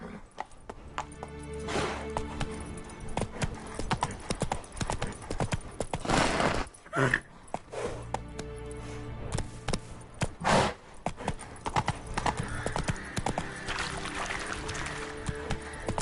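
Roach, Geralt's horse in The Witcher 3, gallops with rapid rhythmic clip-clop hoofbeats throughout, broken by a few loud bursts and a snort or whinny.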